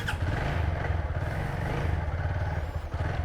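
A motorbike engine idles in neutral close by, a steady low throbbing hum with a rapid even pulse that holds for the whole stretch without revving.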